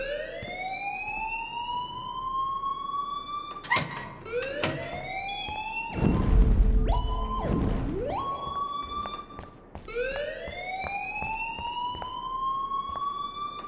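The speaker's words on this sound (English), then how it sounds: "please turn off that alarm since that's your job" Repeating rising-pitch electronic school alarm in the video game Life Is Strange, loud and steady, sweeping upward in cycles with a louder burst of overlapping tones midway.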